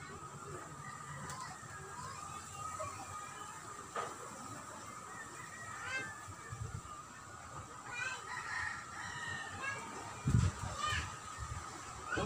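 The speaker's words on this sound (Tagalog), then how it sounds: "Batihan ninyo mga palangga, ang mga tuktugaok sa manok." Roosters crowing outdoors at a distance, several rising calls scattered over a steady background, with a person talking nearby and faint children's voices around.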